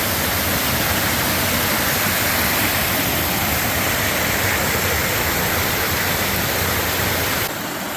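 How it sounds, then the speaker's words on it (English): A small cascading waterfall on a mountain stream along the Appalachian Trail rushes steadily, loud and close, a constant roar that eases slightly at the very end. "There's a little cascading waterfall."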